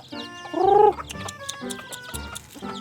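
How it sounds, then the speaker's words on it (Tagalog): A flock of farmyard chickens kept as pets clucks and calls up close, including one loud, drawn-out squawk early on followed by softer, scattered clucks. "madami ang manok na yan"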